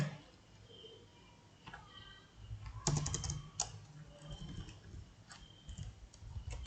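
Quiet keyboard typing while writing JavaScript code, scattered soft key clicks in short bursts, with a louder cluster of keystrokes midway, over a faint room background.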